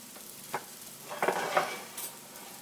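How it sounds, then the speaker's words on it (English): Roasted root vegetables tumble from a board into a soup pot, a few soft thuds and scrapes of a spatula with a light sizzle, close up. "So in goes all of my roasted vegetables."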